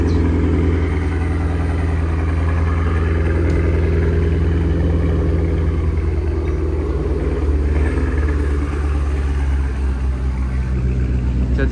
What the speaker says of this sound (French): Écoutez le V8.